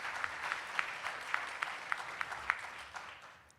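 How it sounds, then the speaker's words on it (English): A small audience at a faculty and staff awards ceremony claps for an award recipient, soft and thin, with individual claps standing out in a loose rhythm before fading away. "Let's give a warm round of applause for Celia Tolliver."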